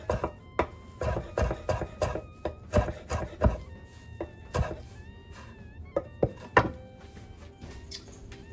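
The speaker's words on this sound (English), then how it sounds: "I'm going to chop up some parsley." Knife chopping fresh parsley on a cutting board, a steady run of crisp close thunks with uneven rhythm and brief pauses, with no talk over it.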